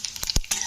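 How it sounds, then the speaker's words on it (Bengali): Whole tempering spices (phoron) frying in hot oil after dried red chilli: a short burst of crackling sizzle with a couple of sharp pops and a stirring scrape, close and alone. "তো ফোড়নটাকে একটু ভেজে নিতে হবে।"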